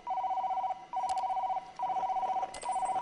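A telephone rings inside a PSVR virtual reality game, four loud electronic trilling bursts separated by short gaps, with faint clicks and handling noises between rings.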